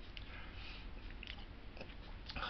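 Crunchy snap peas bitten and chewed close up, a steady run of crisp crunching with a few sharper bites near the end, no talking.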